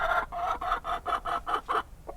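A broody hen gives about eight short, evenly spaced clucks, close and fairly quiet, with no other sound around them.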